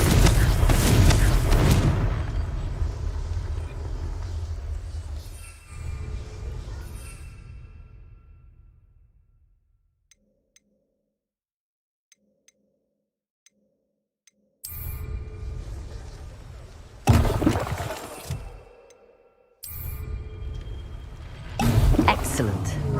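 Confringo explosion spell in the Hogwarts Legacy video game: a loud, booming blast that fades over several seconds into near silence, followed by further sharp, heavy bursts later on.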